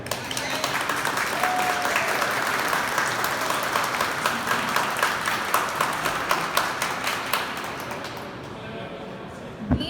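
Sustained audience applause fills a hall, loud and continuous with sharper claps standing out, then trailing off near the end.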